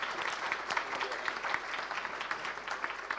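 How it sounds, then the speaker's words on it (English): Audience applause for a panel at a ministerial conference on inclusive growth and full employment, a steady, moderately distant wash of clapping with no speech over it. "Can we have a warm round of applause for our panel, please?"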